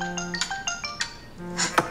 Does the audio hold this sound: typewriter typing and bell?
no